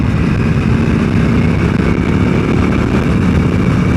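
A KTM 890 SMT motorcycle pulls a rolling start in second gear, with a steady, close engine drone and road rumble running continuously throughout.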